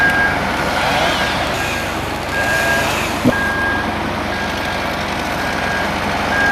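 A 260 snow groomer working slopes at Lans-en-Vercors in the 1990s gives a loud, steady diesel drone close by, with evenly spaced reversing beeps repeating over it.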